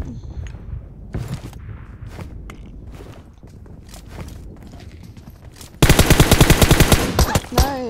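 Video game gunfire plays as a rapid burst of loud automatic shots near the end, after scattered single shots and footstep-like thuds heard earlier at a moderate distance.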